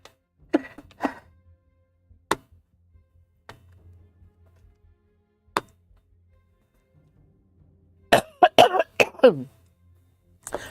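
Several sharp coughs break a quiet room, spaced apart at first, then a rapid cluster of harsh coughs and throat clearing near the end.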